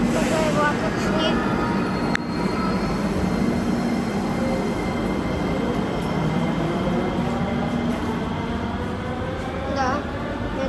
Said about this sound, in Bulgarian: Ето, тук е влакът ни.